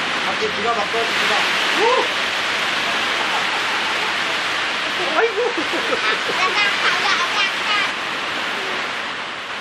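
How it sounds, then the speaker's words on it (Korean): Heavy rain pours steadily onto a tin roof in Myanmar in a dense, loud hiss, with a few faint voices briefly audible beneath the downpour. "양철 지붕 위로 쏟아지는 우렁찬 빗소리가"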